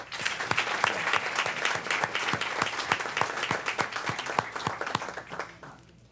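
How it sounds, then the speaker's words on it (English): An audience at a school board meeting in New Orleans applauds a state championship team, steady clapping with sharp individual claps standing out, fading toward the end. "please give them a round of applause"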